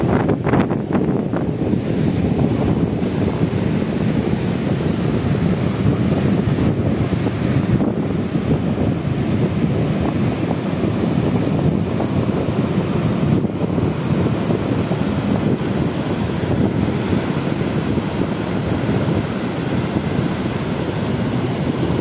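Continuous surf washing in over steady wind rumble on the coast at Quiberon, a broad, loud wash with no clear breaks and no voices.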